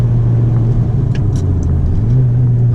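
Honda Civic FK7 sport hatchback with a 1.5 four-cylinder and a 27WON W2 turbo, engine running at a steady close idle, a low continuous rumble that rises slightly in pitch near the end.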